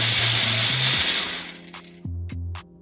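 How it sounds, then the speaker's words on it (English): A food processor rough-chops almonds on low speed, whirring loudly for about a second and a half before stopping, followed by a few short clattering bursts. "almonds are a little bit harder than the rest of the nuts, so I'm just gonna rough chop this on low"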